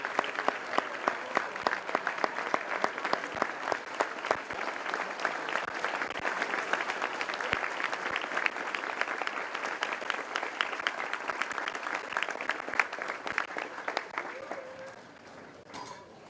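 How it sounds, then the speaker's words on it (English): An audience at a 2025 Holderness School Prize Day applauds with sustained, dense clapping for about fifteen seconds, then the applause thins and fades near the end. "Will you please all join me in a round of applause to thank him for everything that he's done."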